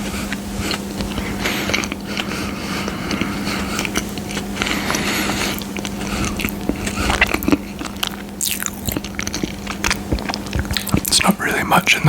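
Someone bites and chews a jam-filled Lamington, an Australian snack cake, with soft squishy bites and faint crackles close to the mic over a low steady hum, while a voice talks over it.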